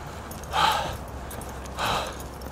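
Heavy breathing from a person just after walking up a small hill, two loud breathy exhalations about a second apart, close to the microphone, with no talking.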